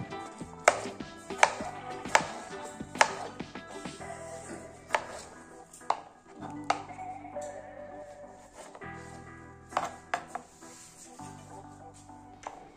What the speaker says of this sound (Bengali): দুইটি টমেটোর বোটা ছড়িয়ে নিয়ে আমরা সেগুলো কুচি কুচি করে কেটে নেব।